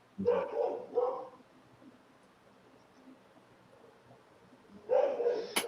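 A house dog barks at passers-by, a quick pair of barks close by, then a quiet gap and another bark burst, loud over a low background.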